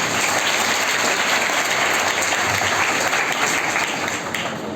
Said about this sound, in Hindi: तालियों की आवाज भी ऊपर की तरफ जाना चाहिए